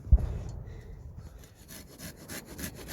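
A hand saw cuts through a thick kudzu root while it is dug out of the ground, giving steady back-and-forth rasping strokes close by with no talk.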